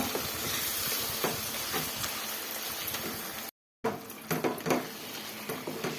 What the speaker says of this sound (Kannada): ಆಯಿಲಲ್ಲೇನೆ ಈ ಥರ ಚೆನ್ನಾಗಿ ಫ್ರೈ ಮಾಡ್ಕೊಂಡ್ಬಿಡೋಣ.